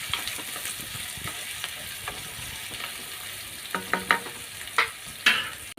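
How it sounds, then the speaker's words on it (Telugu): Onions and mustard seeds sizzle steadily in hot oil while a spatula scrapes and stirs the pan, with a few sharper clinks toward the end. "అన్నీ కలిపి కొంచెం వేగే వరకు ఫ్రై చేసుకున్నానండి"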